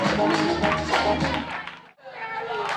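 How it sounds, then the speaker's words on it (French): At a school awards ceremony, an audience claps for a pupil in bursts of close, busy clapping mixed with voices, dropping out briefly before resuming. "On applaudit chaleureusement."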